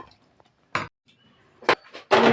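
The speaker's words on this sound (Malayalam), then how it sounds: "ചട്ടി വെച്ച്" A cooking pan clatters onto a stove in a kitchen while brinjal fry is being made, with a few separate sharp metallic knocks and clinks amid near quiet.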